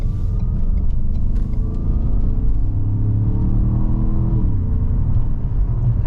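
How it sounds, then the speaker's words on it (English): A 2017 Ford Explorer Sport 4x4 engine hums and rumbles steadily as it accelerates on a bumpy road, pitch rising gradually, with low road rumble and occasional faint bumps underneath. "Acceleration's good."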